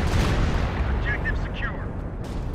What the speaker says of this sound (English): Stuka dive bomb dodged there by the 50 cal